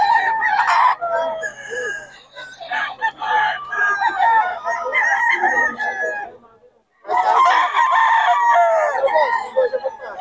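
A stag gamecock rooster crows loudly and close by in repeated cock-a-doodle-doo calls, broken by a short gap, with other fowl clucking around it at an early morning bird market.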